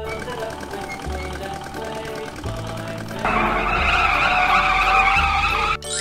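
A blue cartoon tractor on a farm rumbles, then revs up and drives off with a louder, rising engine whine over tonal background music.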